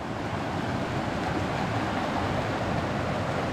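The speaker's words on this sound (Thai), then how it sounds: "น้ำตกนี่" Steady, dense rush of water from a waterfall pouring down at a busy swimming spot, a constant broadband roar at even loudness throughout with no speech.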